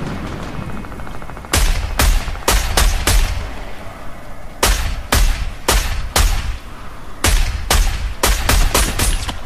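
Gunfire in the Fortnite video game: repeated loud, sharp shots in quick bursts, some spaced and some rapid, following a quieter lead-in with no talk.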